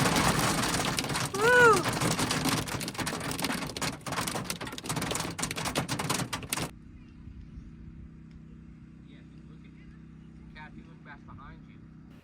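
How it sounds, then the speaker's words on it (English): Dense hail clatters hard on a surface for several seconds in Valley of Fire State Park, with a short shout over it, then abruptly drops to a quiet low rumble. "Now it's hailing pretty heavily."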